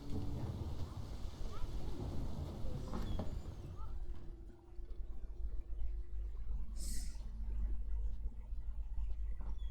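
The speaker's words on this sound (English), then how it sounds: "Rain, I like rain." Rain hisses steadily in The Witcher 3, with a low rolling rumble of thunder building underneath and a brief sharper burst partway through, all fairly loud and continuous.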